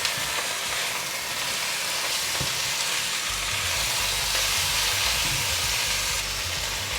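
Taro and tofu stir-fried with soy sauce in a vegetarian braise, giving a steady loud sizzle with stirring scrapes and a deeper rumble building partway through, no talking.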